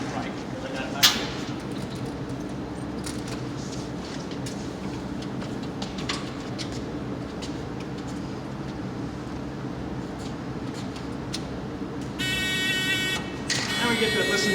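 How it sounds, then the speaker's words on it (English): A car's warning buzzer sounds with the key on and the engine off during transmission troubleshooting: a steady, tonal buzz starts near the end over a constant background rumble, with faint voices. "Now we get to listen to that annoying buzzer."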